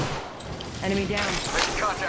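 Gunfire in the battle royale game Apex Legends, a dense, continuous burst of shots running through the whole stretch, loud and close, with a voice talking faintly underneath.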